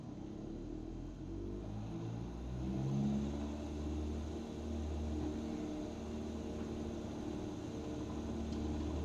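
A Cessna 172SP in Microsoft Flight Simulator 2020 takes off from a grass and dirt runway, its piston engine a steady low drone and rumble that swells slightly as it powers up, continuous throughout.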